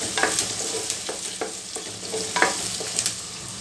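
Onions frying and being stirred for avalakki chitranna, a steady sizzle with repeated scraping strokes of the spoon against the pan, close up and fairly loud with no talking.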